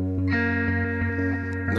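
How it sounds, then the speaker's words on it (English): Electric guitar played through a BOSS GT-1000 with a slicer effect and dual reverb, chopping sustained chords into a steady rhythmic pulse with wide stereo ambience, loud and alone. "Now I've just put a slicer in. We've got a bit of dual reverb giving us some stereo movement."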